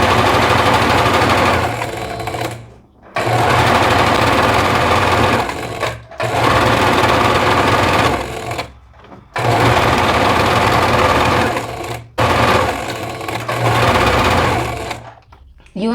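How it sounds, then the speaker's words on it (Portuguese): A sewing machine stitches around the contour of an elastic casing in long loud runs, stopping briefly about five times between bursts of steady whirring. "eu passo uma costura em todo esse contorno"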